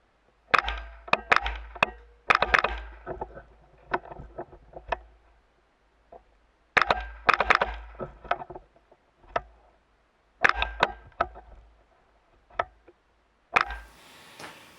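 Bursts of sharp, close gunshots from a Smith & Wesson M&P 15-22 rimfire rifle: quick strings of cracks separated by pauses, with a brief rustle near the end.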